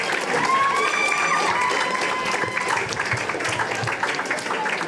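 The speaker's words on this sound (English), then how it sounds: "just give another round of applause for all the contestants here today" Audience applause for spelling bee contestants at a national French spelling bee, expo and fashion show, steady dense clapping that fills the room at even strength throughout, with scattered voices and a whistle-like tone mixed in.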